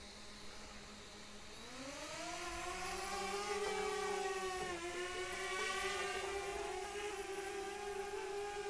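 A DJI drone lifting off, its motors spinning up into a loud, rising whir that settles into a steady tonal hum as it hovers close by in the wind, with no talking.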